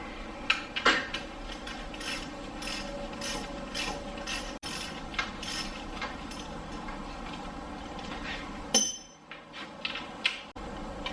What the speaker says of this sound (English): T50 to remove the bolt